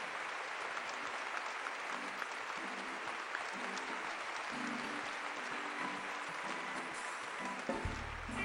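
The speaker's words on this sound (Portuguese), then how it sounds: "Vamos aplaudir a palavra de Deus." Congregation applauding in church after a scripture reading, sustained even clapping from many hands held at a moderate, slightly distant level for the whole stretch.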